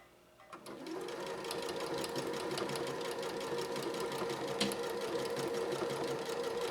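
A Janome 3160 QDC sewing machine starts up and stitches fabric at a steady, rapid mechanical patter, close and loud, running without talk.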